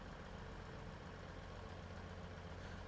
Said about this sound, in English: Just love the sound of this engine